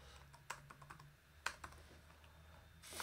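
Computer keyboard typing at a desk, a few scattered quiet keystrokes and a couple of sharper taps, faint over a low steady hum with no talk.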